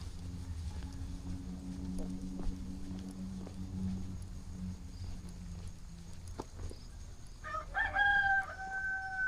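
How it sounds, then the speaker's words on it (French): A rooster crows loudly and fairly close near the end, over steady low outdoor rumble and occasional footsteps on a village path in Bukittinggi, Indonesia. "Il y a un coq."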